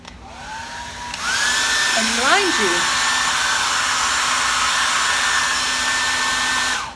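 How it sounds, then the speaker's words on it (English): A steady, loud hair dryer blowing continuously with a high whine over waxed fabric paint, briefly interrupted by a voice speaking over it early on. "you're going to go back through with a hairdryer"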